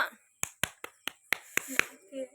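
Several loud, sharp hand claps ring out one after another at uneven intervals, given as thanks to a photographer, with brief voiced sounds between the claps.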